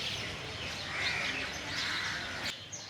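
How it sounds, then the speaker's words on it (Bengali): Birds chirping and calling at dawn outside a railway station, a faint scattered mix of tweets and a crow-like caw over a steady outdoor background hum. "এই ভোরের বেলাতে পাখিদের কিচিরমিচির ডাক শোনা যাচ্ছিল।"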